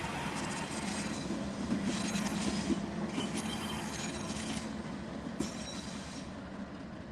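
Train locomotives pass at Harriman Junction, Tennessee, a loud continuous rumble of rolling wheels and rail cars with faint squeals and clicks, close and steady throughout, with no talking.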